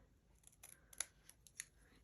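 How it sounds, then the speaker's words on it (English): Scissors snip through the end of a paper banner for a scrapbook page, giving a few crisp, quiet cuts, with the sharpest snips near the middle and a second one shortly after. "you can either come in with your scissors and snip an end like this"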